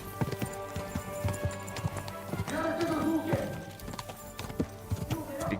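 Horse hooves clip-clop at a steady trot in Kingdom Come: Deliverance II, close and rhythmic, with occasional snorts and game voices talking over them.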